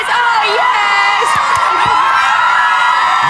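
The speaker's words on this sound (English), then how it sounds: "Give us a cheer, guys" A group of children cheers and whoops on a TV game show, a loud, sustained burst of shrill voices with rising yells, close and continuous for a few seconds.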